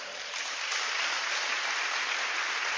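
Church congregation clapping together in praise, a dense, even wash of many hands that swells slightly after a soft start and carries on steadily for a few seconds, with no voices over it.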